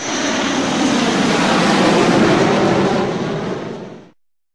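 An airplane roars past in a loud, steady broadband rush that swells slightly mid-pass, then tapers and stops abruptly.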